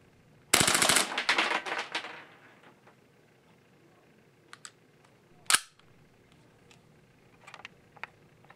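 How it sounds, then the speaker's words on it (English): A Cybergun KWC Desert Eagle airsoft pistol fires a fast full-auto burst with blowback, a loud rapid rattle of about a second and a half, followed by a few sharp single clicks and metallic handling sounds. "Let me show you the blowback action."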